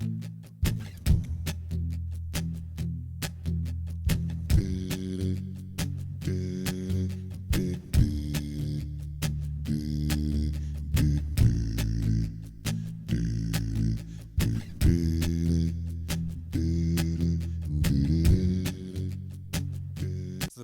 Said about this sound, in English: So let's lay down the bass line, which is just following the chord structure.